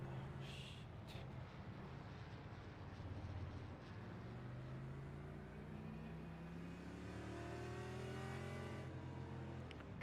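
NASCAR race cars in a racing video game rolling slowly around the Montreal circuit to warm their tyres, several engines droning and revving steadily together, no talk.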